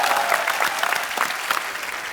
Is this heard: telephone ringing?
no